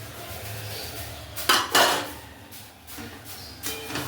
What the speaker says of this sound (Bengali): দিয়ে মশলার সাথে মাংসটা ভালো করে মিশিয়ে নেব